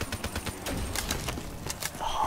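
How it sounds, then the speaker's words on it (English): Rapid bursts of gunfire crack out in quick, uneven clusters over a steady background, automatic weapons firing in a Black Ops 3 custom zombies map. "just shoot a couple of bullets then reload"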